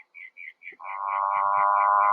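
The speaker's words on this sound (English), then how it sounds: "So these are the motorbike frogs, and they sound like a motorbike taking off or changing gears" Motorbike frogs calling in a small garden wildlife pond, a run of short pulsed chirps followed by a loud, sustained revving trill like an engine changing gears, close and alone.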